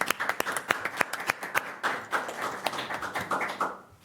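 Scattered applause at a town planning board meeting, a handful of people clapping unevenly for about four seconds in a room, moderately close, tapering off at the end.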